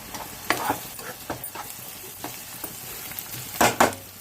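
Onions fry in a pan with a steady close sizzle, punctuated by several scraping stirs and a pair of louder clattering strokes near the end; no one speaks.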